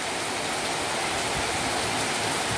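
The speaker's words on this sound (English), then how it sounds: "I guess it's cooling, but it is pouring rain." Heavy pouring rain during a flood in Puerto Rico, a dense, loud, steady roar of water hitting surfaces with no pauses or voices.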